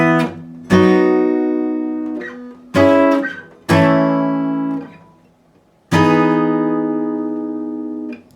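Electric guitar plays a verse phrase from a song: four or five strummed chords with arpeggiated notes, each ringing and decaying before the next, clean and solo.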